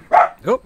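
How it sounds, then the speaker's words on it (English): A dog gives a single loud, close bark, followed moments later by a person's short startled exclamation. "Apologies for the dog."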